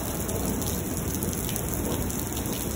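Heavy rain falls in a thunderstorm in Lubbock, Texas, a dense, steady hiss of drops beating on surfaces, fairly faint and unbroken with no thunder.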